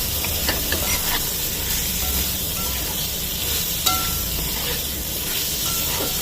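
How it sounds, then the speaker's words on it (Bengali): Fried potatoes stirred into a spicy egg curry in a pan, with a steady loud sizzle and hiss throughout and occasional soft scrapes of the spoon. "আলু ভাজাগুলো দিয়ে আর একটু নাড়বো 5 মিনিট মতো।"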